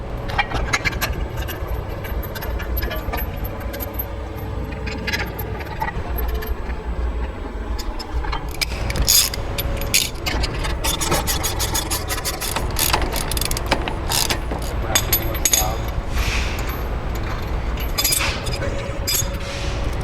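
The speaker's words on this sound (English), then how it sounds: "we're going to torque that down to 75 foot-pounds." Steady ratcheting and metallic clinking as a brake caliper is bolted onto the knuckle of a 2007 Jeep Wrangler JK during a Baer brake install, continuous mechanical clicking throughout a workshop.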